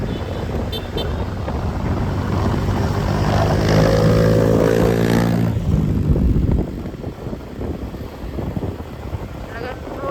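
A motorcycle driven through city streets, its engine droning loudly up close with a rising and falling whine and heavy wind rumble, easing off to quieter traffic noise near the end.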